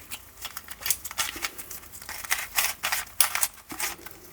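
Rapid plastic clicking and clacking in irregular bursts as a Rubik's cube is twisted and turned quickly in a random shuffle, close up with no talking.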